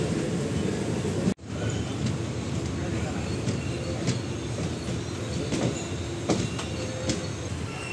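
The Kakinada Express rolls into Kakinada Town railway station, a continuous rumble of wheels with rhythmic clacks and occasional squeals, heard from close by with a brief sharp dropout near the start.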